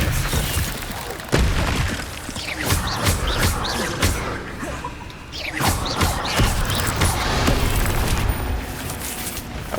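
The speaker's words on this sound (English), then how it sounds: "Expelliarmus." Spell-casting effects in the Hogwarts Legacy video game: loud, busy magical bursts, whooshes and impacts stacked over a continuous game soundscape, with sharp hits near 1.3 and 5.5 seconds.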